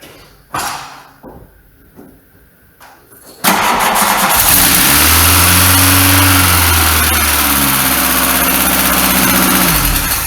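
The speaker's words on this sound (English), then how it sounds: "Engine runs beautifully." A few clunks and rattles, then a cold 1980s Volkswagen 8-valve engine cranks and roars to life loudly, settling into a steady, slightly tappety run with its revs rising and falling.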